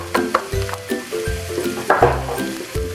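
Carrots and meatballs sizzle loudly in a hot pan as they are stir-fried, with repeated scrapes and clinks of a utensil against the metal breaking through the steady hiss.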